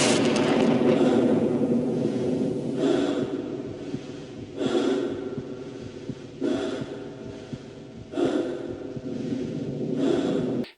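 Gordon Freeman, the player character in Half-Life, breathes heavily in a series of rhythmic inhale-exhale pulses. They come roughly every two seconds, close and fairly loud over a steady low game ambience.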